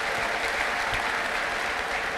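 Steady, dense applause from a church congregation fills the space, a continuous even clatter of many hands clapping without a break.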